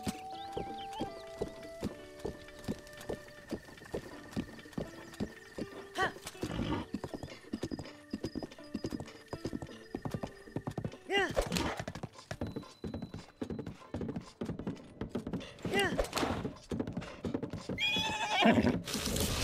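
Horse in the video game Breath of the Wild, repeated clip-clop of hooves with several whinnies and neighs, thuds and scuffles over a quiet game soundtrack, ending in a louder burst of neighing.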